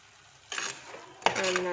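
A spoon stirring grated coconut into a Kerala-style mussel stir-fry in a pan, two short bursts of scraping and clinking against the metal over a faint sizzle.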